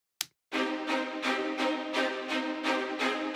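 Metropolis Ark 1 orchestral string sample library playing short, repeated bowed chords in a steady pulse of about six strokes, full and roomy after a brief opening hit.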